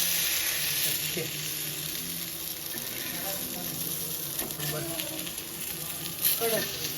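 Fish fry in a pan with a loud, continuous close sizzle and occasional scraping and stirring sounds, while a voice talks faintly in the background.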